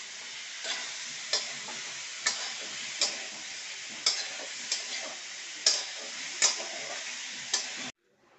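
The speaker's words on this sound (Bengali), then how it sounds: "এখন একটু নাড়াচাড়া করে নেব।" Vegetables are stirred in a pan, a steady low sizzle broken by about a dozen sharp spoon taps against the pan at an uneven rhythm, ending abruptly in quiet.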